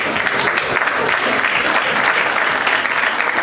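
A crowd of spectators at a bodyfitness competition claps in a sustained, dense round of applause throughout, steady and fairly loud with no pauses.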